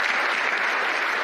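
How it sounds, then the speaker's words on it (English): An audience applauds parents in a steady, dense wash of clapping from many hands that holds at an even level throughout the short stretch. "How about a round of applause for these parents?"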